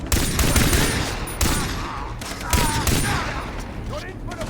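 Rapid bursts of gunfire from the video game Far Cry 3, loud and close with repeated volleys and sharp cracks layered over a busy game soundscape.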